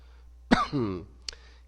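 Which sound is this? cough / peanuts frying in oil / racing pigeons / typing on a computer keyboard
cough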